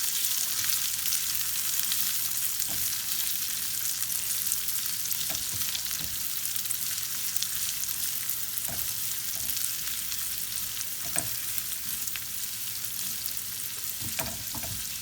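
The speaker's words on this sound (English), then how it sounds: "To that bacon fat, which is still quite hot, I'm going to add my onion. Give that a saute until they're a little soft." Onion sautéing in hot bacon fat for baked beans, a dense, even sizzle lasting throughout with occasional soft stirring knocks and scrapes.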